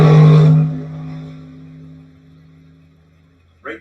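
A drag race car launching in Top Sportsman qualifying at the track, a loud close roar that fades away quickly into a distant drone, with a brief voice at the end.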